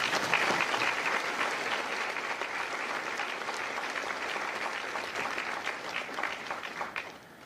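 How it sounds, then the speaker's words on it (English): Sustained applause fills the venue at a Marine Corps recruit graduation for Echo Company at MCRD San Diego, a thick, even wash of many hands clapping that holds steady before tapering at the very end. "a round of applause for recruiters and combat instructors"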